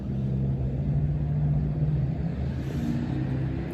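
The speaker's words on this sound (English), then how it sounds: "wait for this car to drive by" A car drives past on a nearby road, a steady low engine rumble and tire roar holding across the whole stretch with no talking.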